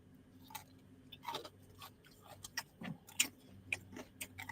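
Crunchy chicken nugget being chewed close up, a run of irregular crisp crunches and bites with short pauses between them, no talking over it.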